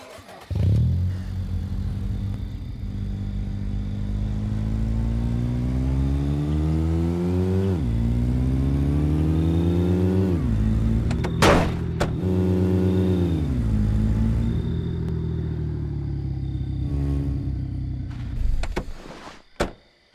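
Car engine in the zombie survival video game State of Decay, revving and accelerating steadily for about twenty seconds with rising and falling gear-shift sweeps, loud and close, with a couple of sharp clunks midway and no talking.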